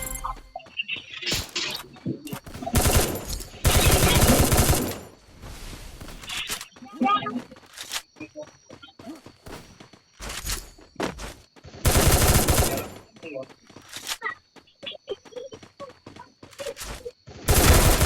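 Bursts of gunfire and sniper shots in the Free Fire battle royale game, loud clusters of rapid shots separated by quieter gaps, with footsteps and other game sounds between.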